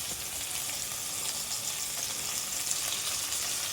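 Onions, green chilies and ginger-garlic paste fry in masala with a steady, even sizzle that holds for the whole stretch. The sizzle is close and constant, with no stirring accents and no voices.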